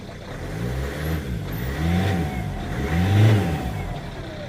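A Ford Focus engine that puffs black smoke revs up three times in quick succession, each rise and fall of the engine note close and clearly audible.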